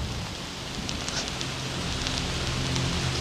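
Steady rain hisses in the high Andes, driven by wind, a dense even patter close by with a low gusty rumble underneath and no voices.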